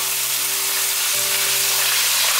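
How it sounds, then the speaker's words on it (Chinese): Chopped celery and ginger hit hot olive oil in a pan and sizzle steadily, with a dense, continuous crackle throughout. A low hum runs underneath. "油热了之后，放入芹菜末和姜末。"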